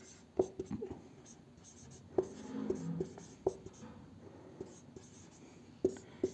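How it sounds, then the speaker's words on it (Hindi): Chalk or marker writing a formula on a board, a series of soft taps and short scratchy strokes, close and faint, in a quiet room. "इसके पहले एक यहाँ फार्मूला लिख देते हैं साइड में।"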